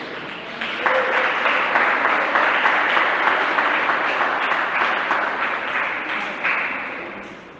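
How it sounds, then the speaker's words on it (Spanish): Sustained applause from a large church congregation for children, steady and dense for several seconds before gradually thinning out toward the end. "Démosle un aplauso a los niños, se lo merecen."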